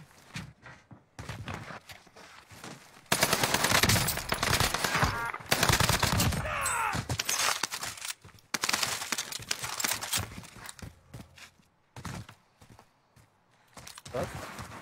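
Loud bursts of automatic gunfire in a shooter video game, sustained rattling volleys with brief gaps, up close and dense, with a player's voice talking intermittently over the shots.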